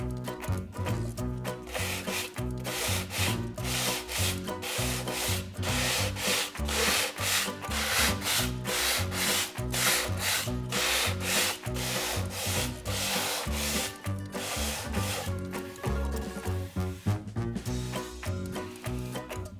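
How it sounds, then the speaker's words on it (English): Steady back-and-forth rasping of sandpaper over dried paint on a wooden bath caddy, loud and close, with rhythmic strokes continuing throughout and no voices. "I'm going to sand just to make sure that what I've just created is part of the background"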